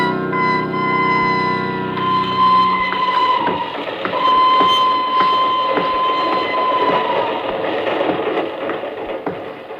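A train runs steadily as a radio drama sound effect for a departure to Bern: a continuous rolling rumble with sustained whistle-like tones, holding loud and even for the whole ten seconds.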